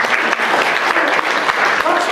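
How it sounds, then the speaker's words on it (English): Audience applauding for Darlene at a talk by Angie Pizelo, a dense, loud, steady patter of many hands filling the room without pause. "Let's clap for Darlene, because she's an awesome lady."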